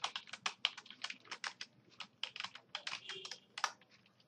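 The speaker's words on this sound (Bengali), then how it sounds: "নোটপ্যাডে গিয়ে লিখব" Brisk typing on a computer keyboard in a text editor, a dense run of crisp, close key clicks with a few brief pauses and no voices.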